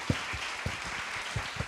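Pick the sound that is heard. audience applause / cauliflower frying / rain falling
audience applause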